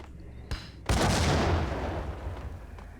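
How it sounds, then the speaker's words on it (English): Grenade blast in the Max Payne video game: a short click, then one sudden loud boom that rolls off into a long decaying rumble and fades over about two seconds, with no voices. "All we do is throw the grenade in there."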